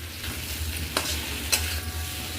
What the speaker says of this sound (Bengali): 1 চামচ ঘি দিয়ে দিলাম, সমস্ত কোপ্তাগুলো দিয়ে দিলাম।